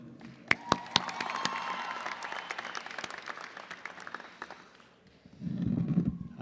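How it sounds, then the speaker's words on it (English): Audience applause at a high school graduation ceremony, a dense sustained clapping from a large crowd with a few sharp nearby claps, fading out then a brief low murmur at the end. "Stephen gets a much bigger round of applause than I do"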